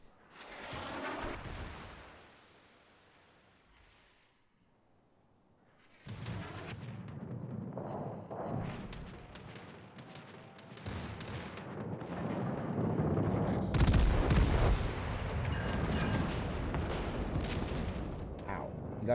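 Naval gunfire in World of Warships, shells striking a warship's rear turret: heavy booming blasts and rumbling impacts build after a quiet stretch, with a loud crash near the middle, while a voice talks over the action.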